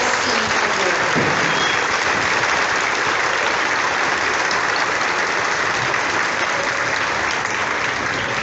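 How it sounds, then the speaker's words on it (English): Audience at an elementary school graduation applauding steadily for students receiving the Triple C Award, a dense, sustained clapping with no pauses. "Can we give those students a round of applause for the Triple C Award?"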